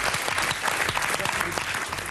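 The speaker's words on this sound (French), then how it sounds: "Applaudissements pour Kamel." Studio audience at a French comedy show applauding a performer, dense continuous clapping with some crowd noise, steady and loud throughout.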